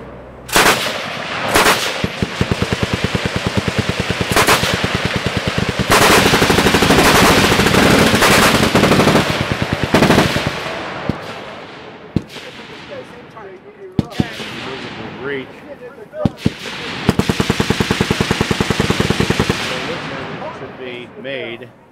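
Firing of a 76mm Whitworth cannon at an outdoor range, loud sharp blasts and rapid crackling reports in bursts, close and booming, with stretches of quieter activity and voices between.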